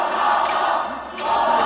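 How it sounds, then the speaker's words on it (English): A large crowd at a StarCraft 2 esports event chants a player's name in loud, rhythmic swells that fill the hall. "The crowd is chanting his name"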